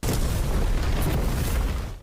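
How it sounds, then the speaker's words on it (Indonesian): A huge explosion from a clash of powers in the animated series Perfect World, a dense continuous roaring boom that fills about two seconds at high loudness before cutting off abruptly. "Yang mana karena tabrakan kekuatan ini terjadi ledakan yang begitu besar."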